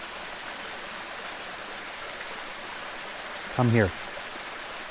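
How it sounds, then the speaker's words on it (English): A waterfall pours with a steady, even rush of white water that fills the whole clip at moderate loudness. A brief voice calls out once near the end over the constant roar. "Listen to the waterfall."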